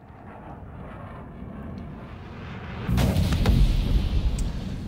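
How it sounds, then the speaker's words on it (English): Two size 3 missiles slam into the front of a Buccaneer ship in a space combat video game: after a low droning engine hum, loud booming impacts erupt partway through and rumble on. "We are starting with the Buccaneer and two size 3 missiles to the face."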